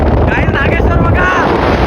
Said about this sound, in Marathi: इथे हवा एवढी आहे एखादा उडून जाईल